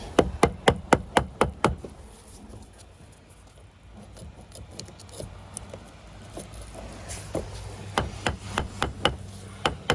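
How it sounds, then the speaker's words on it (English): Hammer strikes setting fusion stone onto a pillar corner: a quick run of about eight sharp, evenly spaced knocks, a quieter pause with faint rustling, then another series of lighter blows. "I'll hammer it."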